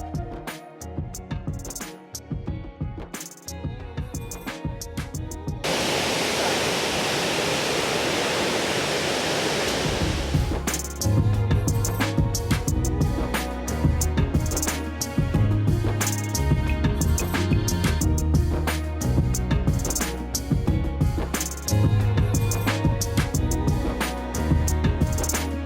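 The Kattikkayam waterfall in Kottayam roars with a dense, continuous rush of falling water, loud and close throughout. A brief stretch sounds purely like broad white-noise spray, while other stretches carry extra rumbling and clattering.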